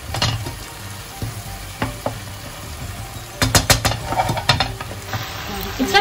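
Palak paneer with fenugreek frying over medium heat in a pan while it is stirred, giving a steady sizzle broken by clattering spoon-on-pan scrapes and knocks that grow busier in the second half.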